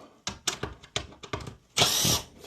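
A cordless power drill backs screws out of the cover panel on a mini split air conditioner, several short whirring bursts in quick succession, then one longer, louder sustained run, close up.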